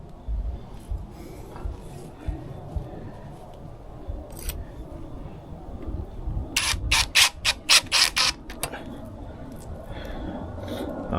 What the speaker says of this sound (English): these metal brackets get screwed onto the side here with these small screws